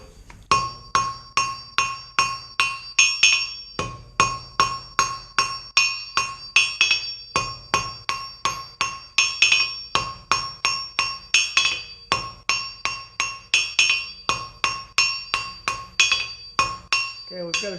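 Hammer blows on hot steel at an anvil while forging a short taper for an icicle Christmas ornament, a steady rapid series of loud ringing metallic strikes, close and continuous, with no talk.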